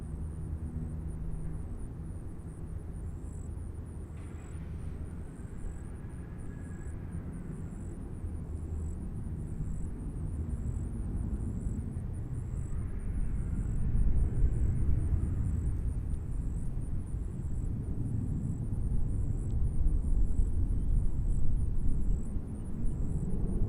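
An airliner, call sign Volunteer 3002, takes off from runway 20 at Nashville International Airport, its faint, distant low roar swelling steadily over a long stretch with no talking.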